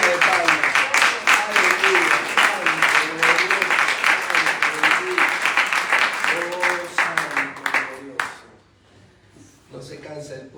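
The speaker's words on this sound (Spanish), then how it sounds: "Dale una ofrenda de palmas." A church congregation claps hard and fast in a sustained burst of applause, voices calling out over it, before the clapping drops away near the end and a few scattered claps return.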